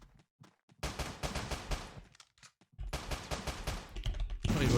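Revolver shots in the video game Teleglitch, loud broadband blasts fired in two dense bursts of rapid reports, with a short quiet gap between them and a harsher burst at the end.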